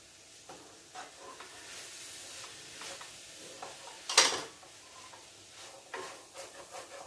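Curry leaves frying in hot oil in a pan while being stirred, a faint steady sizzle with soft scraping strokes and one sharp, louder crackling burst partway through.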